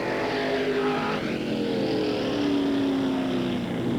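Late model race cars lap a dry, rutted dirt speedway in 1981, their engines a loud, continuous drone whose pitch sweeps up and down as they pass through the turns.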